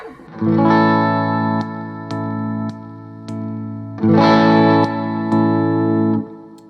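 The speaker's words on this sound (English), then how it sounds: "Here's what the split coil sounds like on that." Clean electric guitar with a split-coil middle pickup: two strummed chords ring out, each followed by single plucked notes, bright and slightly chorused, no talking.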